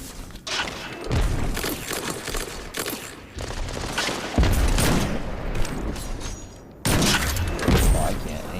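Rapid bursts of gunfire and booming weapon blasts in a Destiny 2 Trials of Osiris elimination match, loud and repeated in clustered volleys with short gaps, with a player talking over parts of it.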